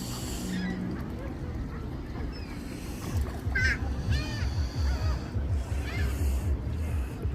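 Geese honk in a few short nasal calls by a lake at Bluffer's Park in Toronto, heard over steady low rumbling water or boat noise and outdoor wind.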